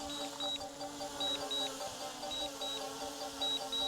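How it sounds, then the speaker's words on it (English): Evenly spaced high-pitched electronic beeps in pairs from a Skyrover X1 drone's obstacle sensors, approaching a tree, repeat over a steady mechanical whir and background hum. "you can hear the familiar beeping from the sensors"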